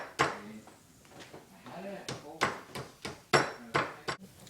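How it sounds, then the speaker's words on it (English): Sharp, hollow knocks in an irregular series, some in quick pairs, as a rubber mallet taps pins into a wooden knife handle, with a few soft murmurs between hits. "use a rubber mallet if you have one"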